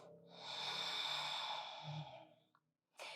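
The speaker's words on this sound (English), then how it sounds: "One more breath." A long, audible exhale during a morning yoga stretch: one drawn-out breath fading near the end, then a short fresh intake, close and alone.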